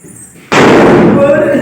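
A balloon bursts with a sudden sharp pop during a balloon-bursting challenge game, followed at once by loud, sustained noise and voices that fill the rest of the moment.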